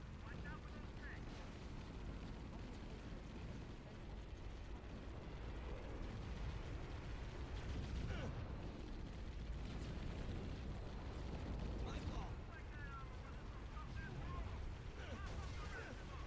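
Tank cannons boom repeatedly in a video game battle, heavy explosive bursts scattered through a dense, continuous roar of combat while a player talks over the action.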